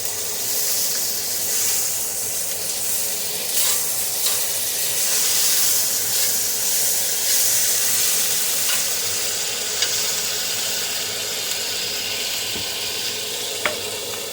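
Food fries on a very hot griddle over a stove burner, a steady loud sizzle and hiss running throughout with occasional small pops and crackles.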